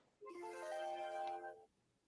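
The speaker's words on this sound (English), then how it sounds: "that was eBay sending me a notification" An eBay app notification chime rings out once, a bright tonal jingle lasting about a second and a half, clear and alone.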